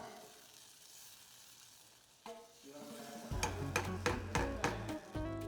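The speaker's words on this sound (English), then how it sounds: "we're going to stir that around just to incorporate it" Stir-frying sauce in a pan in a Chinese cooking class: a soft sizzle at first, then a run of sharp, evenly spaced scraping and clanking strokes of a utensil against the pan, close and fairly loud, with no talk.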